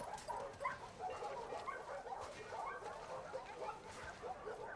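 A dog in the video game The Last of Us Part II yips, whimpers and barks softly in a faint, irregular series of short calls.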